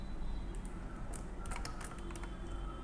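Keys tapped on a computer keyboard while building a Power BI report, a few quick soft clicks in small clusters over a constant background hiss.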